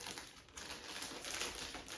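Crinkly rustling of a plastic bag being handled up close, a continuous papery crackle with small bursts, no voices.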